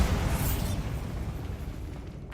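Spell explosions from the Hogwarts Legacy video game during combat, a dense, loud rumbling blast that fills the whole short stretch without break, heavy and low, fading slightly toward the end.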